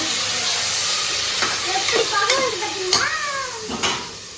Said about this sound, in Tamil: தக்காளி சேர்த்துட்டு நம்ம நல்லா வதக்கி விட்டுடலாம்